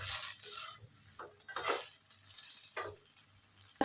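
Onion leaves fry quietly in a pan, a soft sizzle under a few spaced stirring scrapes and light utensil knocks, ending with a sharper clink.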